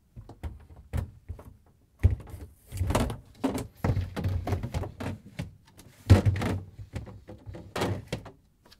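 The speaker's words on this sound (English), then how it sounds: "Put back the shelves by sliding them on the side rails." Plastic shelves on a Samsung refrigerator slid back onto their side rails, giving a string of soft knocks, thunks and scraping clicks close up, irregular and fairly quiet, no talking.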